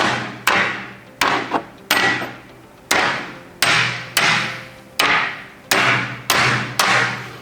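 About a dozen firm knocks on a bonded double-sided ceramic tabletop made of two 6mm sheets, each a solid thud with a short ringing decay, fairly loud and close at a steady, slightly uneven pace.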